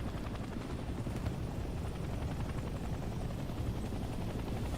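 Helicopter in the Vietnam-era video game Hell Let Loose Vietnam, a steady rapid rotor chop with low thrumming, continuous and moderately loud with no talk over it.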